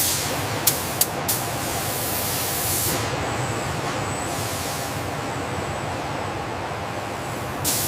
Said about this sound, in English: The Sukhoi Su-24 pivot mechanism enters the spray booth for Process A, the application of a durable anti-corrosion primer.